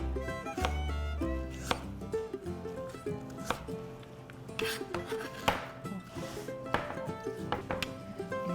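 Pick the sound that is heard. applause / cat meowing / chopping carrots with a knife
chopping carrots with a knife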